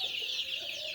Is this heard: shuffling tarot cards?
no